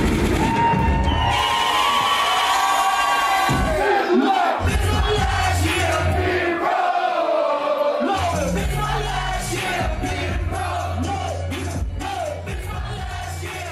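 A live show crowd roars, cheers and yells loudly and continuously, with scattered shouts and whoops rising and falling over about fourteen seconds.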